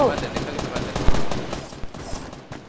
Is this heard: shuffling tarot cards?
no